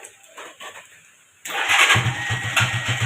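A starter whirs briefly, then a Rusi TC 150 motorcycle engine catches and fires into a loud, rapid throbbing rumble close by, running steadily.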